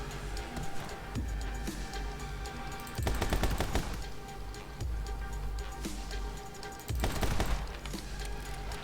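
Gunfire in the video game My Friend Pedro: loud, continuous bursts of rapid shots over dense game music and noise, with heavier volleys around the middle and near the end.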